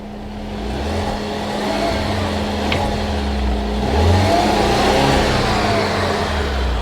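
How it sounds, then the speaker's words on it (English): Alfa Romeo car engine, white smoke coming from the tailpipe, revved from outside by pressing the accelerator pedal with a rod: a steady idle hum swelling into moderate revs and settling back, no talking. "I'm gonna rev up the engine a little bit"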